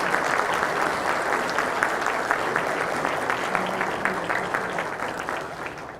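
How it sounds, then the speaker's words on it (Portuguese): Steady, dense applause from an audience at a formal municipal medal ceremony in São Paulo, sustained and fairly loud for the whole stretch, fading slightly toward the end. "uma salva de palmas ao nosso homenageado"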